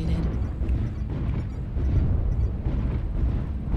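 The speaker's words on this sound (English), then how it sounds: "Airstrike activated." Airstrike explosions in MechWarrior Online faction warfare battle: a continuous, dense roar of overlapping blasts and rumbling booms, loud and sustained throughout with no talking.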